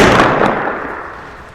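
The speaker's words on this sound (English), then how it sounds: "I hate those gunshot noises." Gunfire in Company of Heroes 2, a World War II strategy game match: a loud burst of shots at the start that decays into a rumbling tail over about a second and a half, with no talk.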